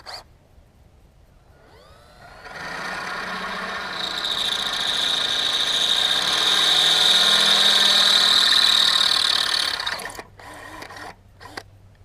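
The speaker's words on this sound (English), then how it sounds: "Now we'll drill out the other side with our 5/16 to fit over the" A power drill with a 5/16 bit bores out a hole in a GoPro suction mount, a loud whirring grind that ramps up, holds steady for several seconds, then stops, followed by brief handling clicks.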